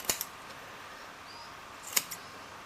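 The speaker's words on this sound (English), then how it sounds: "I like trimming this in close at the top" Scissors snip a model tree's armature into a taper, two short crisp cuts about two seconds apart, close and isolated against quiet room tone.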